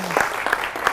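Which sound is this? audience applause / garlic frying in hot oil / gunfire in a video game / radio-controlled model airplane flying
audience applause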